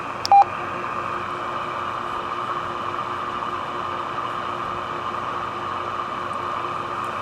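A 10 meter radio hisses with a steady, fairly loud wash of static and noise after a brief click near the start, the noise blanker switched on and the hiss staying even throughout.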